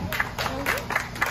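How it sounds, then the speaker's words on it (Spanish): Crowd applause at a festival parade, a dense patter of many hands clapping at close range, with voices mixed in among the clapping. "Fuerte el aplauso."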